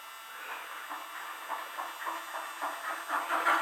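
A model train with smoke, a custom Western Pacific locomotive repainted from Santa Fe, runs on a home railroad layout, giving a steady soft hiss with faint, rhythmic clicking that builds slightly in loudness; no voices.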